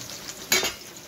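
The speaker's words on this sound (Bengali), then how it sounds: "আগে এই কটা ভেজে নিই, তারপরে এই কটা ভাজবো।" Pointed gourd slices frying in oil in a home kitchen: a soft steady sizzle with a brief louder hiss and stir near the middle.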